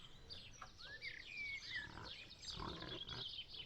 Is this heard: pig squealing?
yes